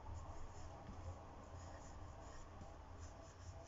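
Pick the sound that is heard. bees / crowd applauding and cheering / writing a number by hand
writing a number by hand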